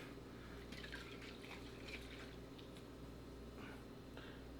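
Water poured into a silo corn blend ahead of mixing, a faint, soft splashing trickle over a steady low background hum, with a few slightly louder wet bursts.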